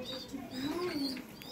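Pet pigeons coo softly in a short run of low, rolling calls, steady and fairly close, with faint chirps and background noise around them.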